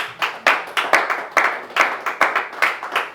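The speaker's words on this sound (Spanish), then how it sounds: "Denle un aplauso a Dios." A church congregation claps in a steady, rhythmic unison beat during a Christian sermon, loud sharp claps repeating about three times per second with no talking.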